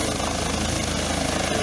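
Helicopter arriving at an emergency scene in Kandel, Germany, its rotor making a loud, steady rhythmic chopping throb that fills the whole stretch, close by and continuous.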